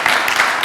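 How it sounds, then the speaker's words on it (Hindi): A church congregation at a youth Sunday service applauds the children, with a brief, steady burst of dense clapping from a crowd. "एक दफ़ा और इन बच्चों के लिए तालियां बजा सकते हैं।"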